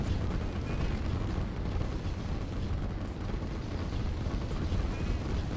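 Artillery fire on a battlefield in the Line War strategy game, with tanks and infantry fighting, forms a dense, unbroken roar of booms and blasts. The rumble stays loud and steady throughout.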